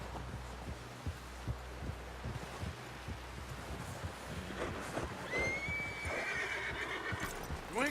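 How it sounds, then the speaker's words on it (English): Horse in the Red Dead Redemption 2 video game whinnies loudly near the end, after steady clip-clop of hooves and rustling throughout, with no talk over it. "Someone help John down off this horse."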